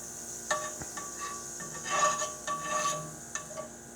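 Chicken pot pie filling crackles and sizzles in a pan on the stovetop, with scraping and stirring against the pan in uneven bursts, close and moderately loud.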